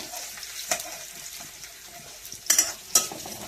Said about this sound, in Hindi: और हरी सब्जी भी चढ़ा देती हूँ।